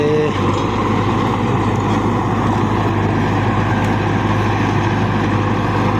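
A 1995 Belarus MTZ 50 tractor working a 60-blade rotavator, its engine a steady, loud, continuous drone with a deep low rumble and no letup.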